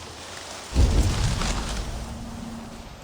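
A storm in the Viking-era video game Assassin's Creed Valhalla: a deep thunder rumble bursts in loud after a quiet start and rolls off slowly over a steady wash of rain.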